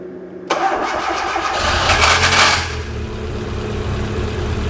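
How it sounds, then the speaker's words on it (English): A Fiat Uno Turbo with a faulty starter motor cranks with a sudden grinding whir, then catches, revs briefly and settles into a steady idle, loud and close. "It's just that starter motor. Starter motor's not retracting back"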